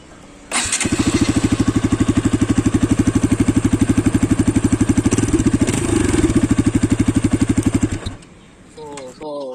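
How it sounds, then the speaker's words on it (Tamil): A Bajaj RS200 BS6 motorcycle starts up and idles, giving a close, loud, even exhaust pulse that runs for about eight seconds before it cuts off, with a voice speaking faintly. "இப்போ நான் உங்களுக்கு வந்து வண்டியை ஐடில் பண்ணி காட்டுறதுல வந்து உங்களுக்கு நோட் தெரியும்"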